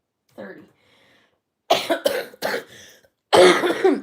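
A man coughs several times in short harsh bursts at close range, with a brief faint voiced sound before them, in a quiet indoor setting.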